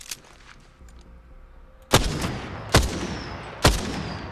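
Three loud, sharp Triple Take rifle shots ring out in Apex Legends, spaced under a second apart, each with a brief echoing tail over faint background hum.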